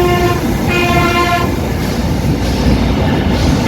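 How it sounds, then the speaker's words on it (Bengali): The Ekota train pulls out of Ibrahimabad railway station. A loud horn sounds in a few short toots over a continuous close rumble of moving rail cars. "আমাকে নামিয়ে দেওয়ার পরে একতা ছেড়ে যাচ্ছে ইব্রাহিমাবাদ"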